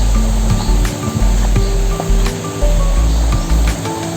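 A strong current of water rushes toward the overflow outlet of a large fish pond, a loud, steady churning roar close by with no talk over it.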